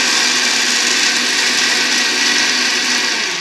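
A mixer grinder whirs steadily at full power while blending herbal powder into a thick paste, a loud, continuous motor drone with no pauses or voices.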